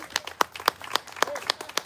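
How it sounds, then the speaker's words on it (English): A small group clapping at a ribbon-cutting for Brushing Up Nac, distinct separate claps in an uneven rhythm, close. "How about one more round of applause?"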